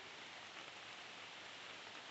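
Rain falls steadily outdoors during mushroom picking, a soft even hiss of drops on surfaces that stays faint and unbroken for a couple of seconds.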